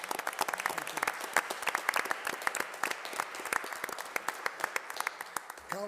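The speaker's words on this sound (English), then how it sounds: "Can we have a round of applause for the Rios family" A town council meeting audience applauds the Rios family, a steady stream of close, distinct hand claps from a modest crowd that keeps going at an even level throughout.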